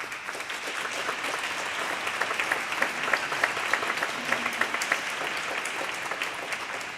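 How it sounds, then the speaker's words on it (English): Audience at a talk on protecting art in conflicts applauding the Ambassador of Ukraine, a sustained crowd of clapping hands with distinct individual claps standing out, steady and fairly loud, with no voices. "I would like to give him a round of applause."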